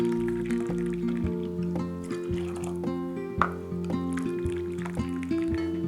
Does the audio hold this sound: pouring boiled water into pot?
yes